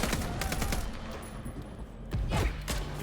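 Gunfire aimed at a sniper in Vampire: The Masquerade – Bloodlines 2, a scattered fusillade of shots, dense at first and then sparser, with a couple of heavier close reports near the end.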